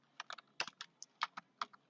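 Quiet typing on a computer keyboard, about a dozen distinct key clicks in an irregular quick rhythm, heard close and alone.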